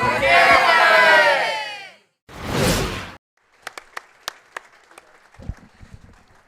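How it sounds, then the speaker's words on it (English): Hockey arena crowd at a boys' playoff game applauding as an injured player is stretchered off the ice, a loud sustained swell of clapping and cheering, a brief second surge, then scattered sharp knocks and thuds. "The crowd gave him a nice warm hand"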